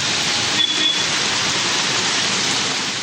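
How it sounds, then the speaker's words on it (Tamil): Heavy rain falls in Madurai as a loud, steady, close hiss of downpour. It continues evenly throughout with no distinct thunder clap and no voices. "மதுரையில் இரண்டாவது நாளாக 1 மணி நேரத்திற்கு மேல் இடியுடன் கூடிய கனமழை பொழிந்தது."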